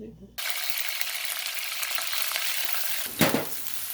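Coarsely crushed garlic and ginger sizzle loudly in hot oil, browning, a constant crackling hiss, with a brief stir or clatter near the end.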